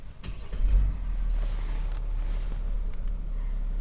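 A 2020 Mercedes-Benz GLS 400d diesel SUV starting from the push button: a short cranking burst catches, then settles into a steady low idle rumble heard from inside the cabin, with no talking.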